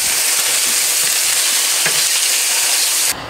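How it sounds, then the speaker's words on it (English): Tofu browning in olive oil in a fairly hot skillet gives a steady, loud, dense sizzle that runs unbroken and close, then drops abruptly near the end. "First, I'm going to brown the tofu in olive oil."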